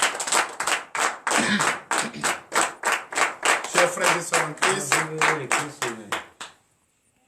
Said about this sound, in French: Donc je vous demande d'applaudir très fort.